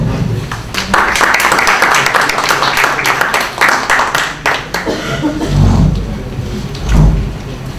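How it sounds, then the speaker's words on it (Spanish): An audience at an academic conference talk on Rapanui family life gives sustained clapping for about five seconds, then it thins out and a few low thumps and voices follow. "Un aplauso, por favor."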